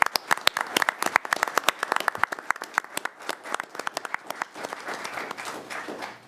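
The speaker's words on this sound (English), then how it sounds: "Let's give these 3 gentlemen a round of applause." A small group at a county government meeting clapping for three gentlemen, with individual sharp claps clearly separable in a brisk, uneven rhythm, close and modest in size, thinning slightly toward the end.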